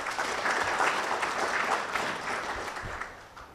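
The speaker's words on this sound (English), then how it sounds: "You deserve a round of applause." A crowd at a G-Soko trading platform launch event breaks into steady, fairly close applause that continues throughout, tapering a little near the end, with no speech over it.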